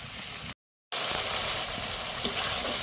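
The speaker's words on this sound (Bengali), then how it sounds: "মশলা ধোয়া জল দিয়ে দেবো, দিয়ে মশলাটাকে আরও একটু কষিয়ে নেব" Spices frying in oil in a pan with spice-rinse water added, a steady close sizzle broken by a brief silence, with a faint utensil tap later.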